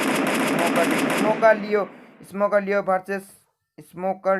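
Dense, rapid gunfire from a battle royale video game rattles loudly for about a second and a half, then fades as an excited voice takes over and keeps talking.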